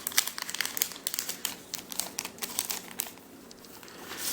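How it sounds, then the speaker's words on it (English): Paper packaging crinkles and rustles steadily as a bundle of WW1 and WW2 death cards is unwrapped, close and fairly loud, easing off toward the end. "So we'll open up the cards here real quick."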